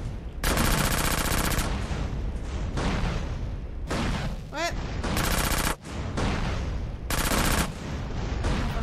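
Heavy, sustained gunfire in Grand Theft Auto: San Andreas: loud, close bursts that hammer almost without pause, broken only by brief gaps and a short whistling sweep midway.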